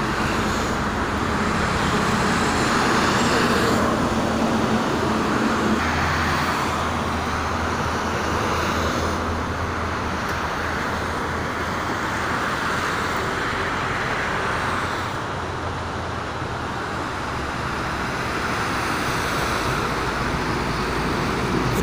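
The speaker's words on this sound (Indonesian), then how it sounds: "didominasi oleh kendaraan truk dan juga ada bis ya" Morning traffic on the Jakarta–Cikampek toll road under overcast skies, mostly trucks and buses, forms a continuous heavy roar of engines and tires that swells and eases slightly as vehicles pass, with no talking.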